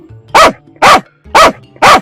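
A dog barks four times in a steady, evenly spaced rhythm, loud and close, with brief quiet between each bark.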